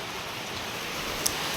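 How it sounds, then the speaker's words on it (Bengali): Heavy rain falling outside, a dense, even hiss of steady downpour heard from indoors, constant and unbroken with no talking. "বাইরে তো প্রচুর পরিমাণে বৃষ্টি,"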